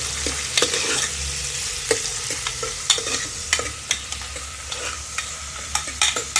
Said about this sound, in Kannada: ಫ್ರೈ ಮಾಡ್ತಾ ಇದ್ದೀನಿ.